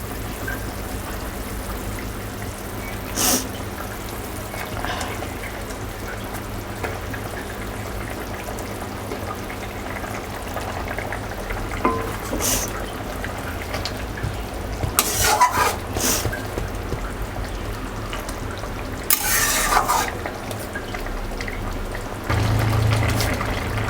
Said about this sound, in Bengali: ঝোলটা ফুটে উঠেছে আলু সিদ্ধ হয়েছে আমি এখন দিয়ে দেব মাছ